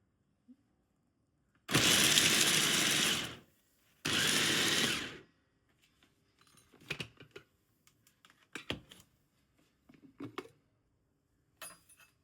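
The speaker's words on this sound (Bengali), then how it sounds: "এগুলোকে আমি চপার দিয়ে একটু মিহি করে নেব চপারে" A kitchen chopper mincing onion, ginger and garlic runs in two loud, steady whirring bursts of about a second and a half each, followed by scattered lighter clatters and taps.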